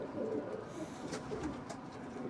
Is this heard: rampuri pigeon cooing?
yes